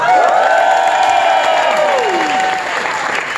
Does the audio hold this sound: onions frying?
no